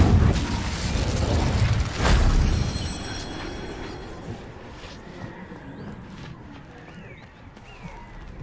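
An Incendio fire spell cast in Hogwarts Legacy bursts with a loud whooshing blast that swells again around the two-second mark and then fades into softer crackling and scattered game effects.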